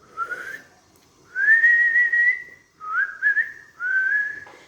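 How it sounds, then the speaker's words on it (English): A lone person whistles a wandering tune in three or four sustained phrases with brief pauses, clear and close. "he wandered around the room, whistling"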